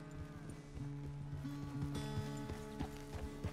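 Horse hooves clip-clop at a steady walking pace in the Red Dead Redemption 2 video game, quiet and close, with a low tonal background hum and no talk.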